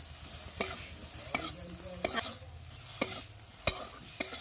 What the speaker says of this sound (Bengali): লঙ্কাগুলো ভাজা ভাজা হয়ে গেছে এখন এর সাথে অল্প একটু রসুন বাটা একটু আদা বাটা দিয়ে দিচ্ছি